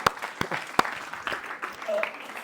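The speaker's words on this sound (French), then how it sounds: "on va applaudir bien fort et le remercier déjà d'être venu" Audience applause in a room, a few scattered individual claps with murmuring voices around them, sparse and uneven rather than a full ovation.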